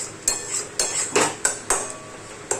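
Metal spoon or spatula scraping and knocking against a cooking pan while masala that has melted down and begun releasing oil is stirred, giving about seven sharp clanking strokes in an uneven rhythm, close and fairly loud.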